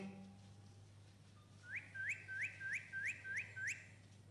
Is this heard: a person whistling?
yes